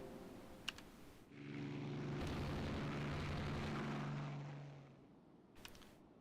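Torpedo striking a warship in the naval strategy game Rule the Waves 2: a swelling, roaring explosion that builds over a second and rumbles for several seconds before fading, faint overall, with brief clicks before and after.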